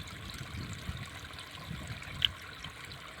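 Irrigation water trickling along a field channel in a pigeon pea and sorghum farm plot, a soft steady gurgle heard up close with no one talking.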